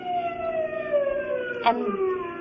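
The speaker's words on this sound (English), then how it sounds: "then I heard that siren in the distance." A siren wails with a slowly falling pitch, steady and somewhat distant, with a brief click partway through.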